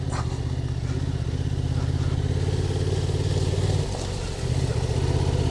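A motorcycle rides along an icy backroad in shade, its engine a steady, loud mid-pitched drone with a brief dip near the end, close up and with no talking.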